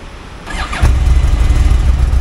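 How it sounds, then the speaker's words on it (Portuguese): A Yamaha R1 motorcycle, cold and freshly repaired, with its starter motor cranking briefly before the engine catches and settles into a loud, close, rumbling idle. "Ó, motor de partida depois do serviço"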